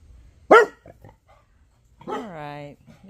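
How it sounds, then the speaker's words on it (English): A dog lets out one sharp, close bark, then after a pause a drawn-out, whiny, rising-and-falling vocalization, in an otherwise quiet indoor space. "Go bark at whatever."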